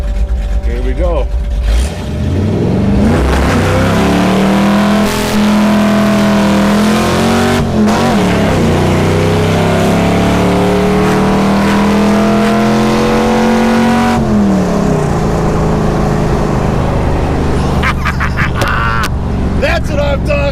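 A 1977 Dodge Aspen with open headers revs hard and very loud, the engine note climbing and falling through several long pulls up close, with bursts of raw exhaust crackle and a brief voice near the end.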